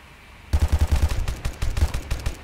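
An M4 rifle fires in the Unity 3D shooter Red Alliance, loosing a quick rhythmic burst of shots, then a brief break and a more ragged, uneven string as the weapon jams.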